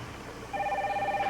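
A telephone rings during an emergency call for an ambulance, a short bright electronic trill starting abruptly and sustaining steadily, clear and close with no talking over it.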